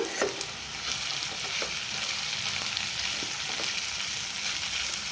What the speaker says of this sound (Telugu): ఒక్క 2 నిమిషాలు మగ్గనిద్దాం. కర్రీ ఆల్మోస్ట్ అయిపోయింది.